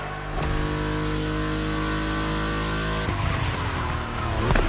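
Racing car engines in The Crew Motorfest roar loudly and steadily, holding a rising harmonic whine before a gear change near the three-second mark, then revving again with no voices.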